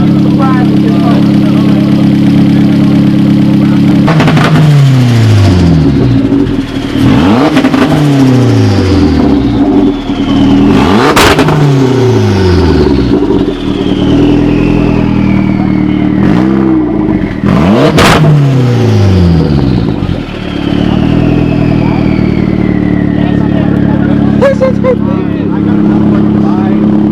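A Toyota Celica GT with two-step launch control revs hard and repeatedly, each rise ending in a sharp cut and crackle before settling back to a rough idle, very loud and close, with people talking over it.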